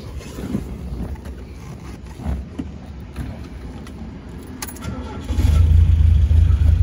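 A 1974 MGB roadster engine cranks and catches near the end, settling into a loud, deep rumble after a stretch of wind-buffeted background noise.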